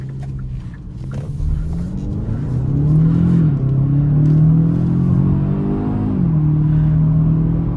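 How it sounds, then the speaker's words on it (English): An all-wheel-drive Kia Stinger 2.5T accelerates hard from inside, its engine note rising steadily, dipping briefly at a quick upshift, then climbing again. "This transmission shifts up very quickly as well."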